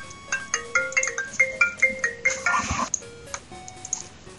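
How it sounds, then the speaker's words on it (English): A phone ringtone for an incoming call plays as a bright repeating melodic jingle, with steady rhythmic phrases of electronic tones that are close and clear, and no talking. "I'm getting a phone call"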